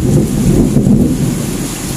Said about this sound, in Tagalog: Ayan, umuulan na, nababasa yung ating camera.